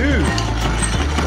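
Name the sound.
coffee grinder running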